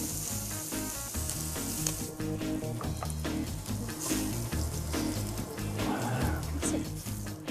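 Scallops searing in a pan with a loud, continuous sizzle and crackle close up, overlaid by music with a steady beat, and a few scraping stirs along the way.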